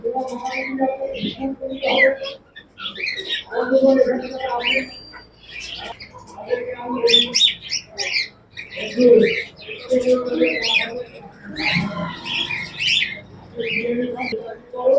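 Pigeons, including silver pigeons, at a pigeon market in Rajshahi city give off chirps and short calls that run through the whole scene. They keep going under steady nearby talk among the buyers and sellers.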